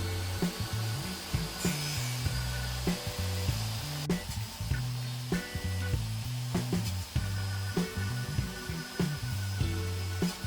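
A power saw blade set low cuts shallow notches, a steady close whine broken by rapid rhythmic cutting pulses that repeat evenly throughout, with no voices.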